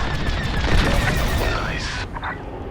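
Rapid laser cannon fire from starfighters in Star Wars: Squadrons on Xbox Series S, a dense, continuous barrage of blasts with game voices talking over it.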